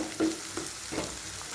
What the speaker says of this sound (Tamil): இப்போ ஆனியன் ஓரளவுக்கு நல்லா வதங்கிடுச்சு